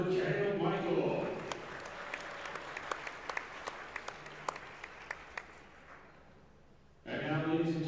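An audience at a high school wrestling senior night applauds in a gym, a sustained wash of clapping with scattered sharp individual claps, framed by an announcer speaking before and after.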